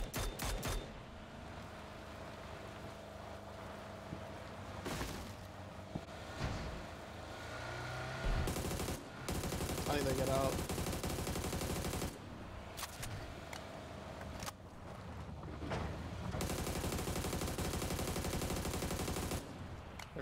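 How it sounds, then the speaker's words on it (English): In PUBG on Erangel, a player fires at a moving vehicle, with bursts of rapid gunfire and sharp single shots alongside a car engine revving, all at fairly close range. "I'm just start shooting at it now."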